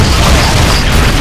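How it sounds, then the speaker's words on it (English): A Predator missile blast in Modern Warfare 2 gameplay, a loud, sustained boom with a rumbling low end filling the whole short moment, dense and continuous with no voices. "Predator missile incoming."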